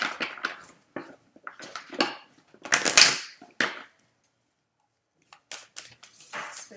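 A deck of oracle or tarot cards is shuffled by hand in crisp, irregular riffling bursts with short pauses, close and clear, with no one speaking.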